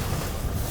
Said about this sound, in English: That's a good gust of wind.